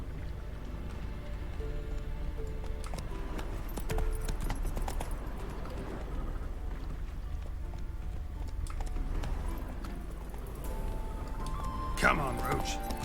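Roach the horse's hooves clip-clop steadily on a path in The Witcher 3, a soft repeating patter beneath ongoing game ambience, with a voice speaking over it.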